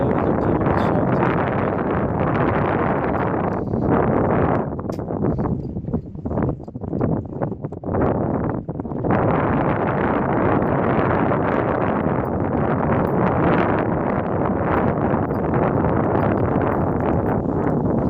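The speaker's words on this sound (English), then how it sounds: "Now, I do apologise again for the wind." Strong wind blowing across an open farm field, buffeting the microphone in a loud, continuous roar with a brief lull midway.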